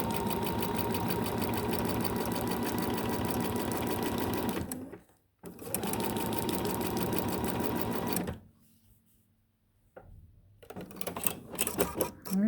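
A sewing machine stitches steadily through fabric and vinyl on a see-through bag, running in long loud bursts with a brief pause between them and then stopping, followed by quieter handling sounds.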